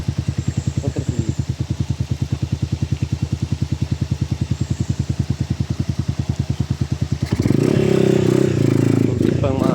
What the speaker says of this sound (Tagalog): Muntik pang masira yung motor namin